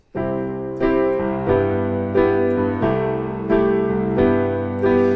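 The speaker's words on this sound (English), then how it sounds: "add a little bit more in the left hand bass rhythm with eighth notes" Piano chords with a steady eighth-note bass pattern in the left hand, rhythmic and bouncy, repeating about every half second over ringing harmonies.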